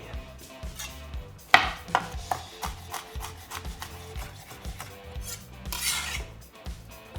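A knife chops coriander and red chilli on a board in a run of quick, uneven close taps, with one sharper knock early on and a brief scraping sweep near the end.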